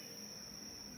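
Crickets chirp from a dense jungle at night, a steady high-pitched trill that holds unbroken and fairly loud over a faint low rumble.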